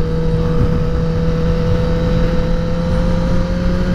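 A 2021 Kawasaki ZX10R motorcycle engine drones with a loud, steady tone over rushing wind noise, holding a constant pitch throughout.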